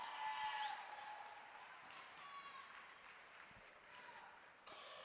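Steady applause from a crowd at a youth fair swine showmanship event fills the space, a dense wash of clapping that holds throughout without a break.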